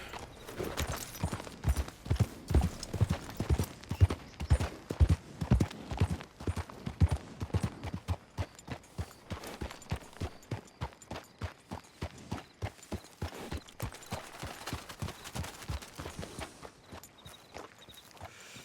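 Horse hooves clip-clop steadily in Red Dead Redemption 2, a brisk even rhythm of close, soft thuds continuing for the whole stretch with no voices over it.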